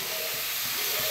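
A vegetable fry sizzles in a pan, giving a brief, faint, even hiss of frying with no voices.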